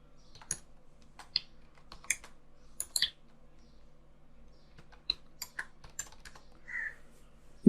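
A date being typed on a computer keyboard in MS Word: sparse, quiet key clicks spaced irregularly over several seconds against a faint room hum, with no talking.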